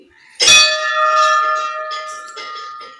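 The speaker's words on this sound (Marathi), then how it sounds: "घंटा वाजवली" A temple bell struck once in a forest shrine rings out loud and close with a bright metallic tone that decays over a few seconds, faint voices murmuring behind it.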